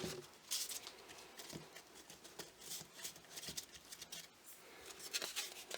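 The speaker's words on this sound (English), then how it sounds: "Cut this a little bit more here." Scissors snipping through hat-making material, a series of quiet, crisp cuts and rustles at close range, irregular in rhythm, with no talking.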